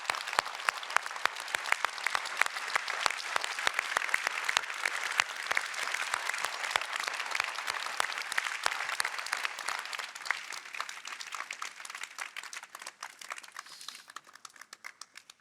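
Audience at a formal congress session applauding a contributor, sustained steady clapping from a large crowd in a hall that carries on for a long stretch, then gradually thins toward the end.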